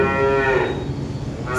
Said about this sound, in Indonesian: Suara sapi yang mulai makan terdengar di sela rekaman